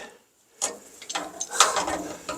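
Adjustable wrench working a tight brass fitting on a new 30,000 BTU natural gas heater, giving a few short ratcheting clicks and metallic creaks after a brief silence, close by.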